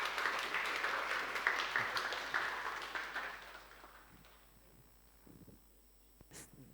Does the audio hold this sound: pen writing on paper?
no